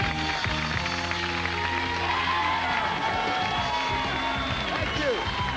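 A television studio audience cheers, whoops and applauds continuously as a host walks on. A dense, loud crowd roar carries throughout, with some overlapping talk.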